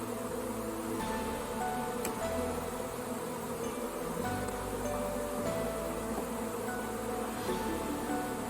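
A swarm of honey bees hums in a continuous, fairly faint drone, with individual buzzing tones rising and falling over the steady outdoor hum.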